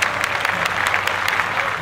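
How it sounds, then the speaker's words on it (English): Brief applause of a small group, a short patter of claps at moderate level lasting under two seconds with no voices over it. "Applause!"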